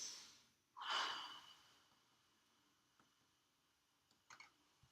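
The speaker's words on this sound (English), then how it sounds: "take a deep breath and then exhale and hold it for me" A single deep breath drawn in and let out during a clinical head-to-toe physical assessment, a faint airy rush near the start followed by quiet and small soft clicks.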